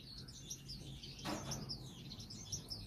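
Finches, including a starfinch and a spice finch, chirp in an aviary with repeated high tweets throughout and a brief burst of wing flutter in the middle, fairly close and moderately loud.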